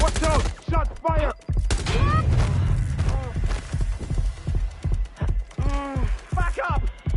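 Rapid bursts of gunfire in a video game streamed on PS5, loud repeated sharp shots in clusters, mixed with shouting voices and radio-style chatter throughout.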